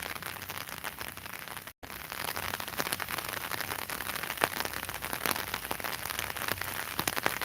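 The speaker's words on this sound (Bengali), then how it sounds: "ক্যামেরার সামনে বৃষ্টি দেখা যাচ্ছে কিনা একটু যদি দেখেন" Rain falls steadily on surfaces in Sylhet, an unexpected shower during the foggy, cold dry season, with a dense patter and scattered sharper drop ticks throughout and a brief dropout near the start.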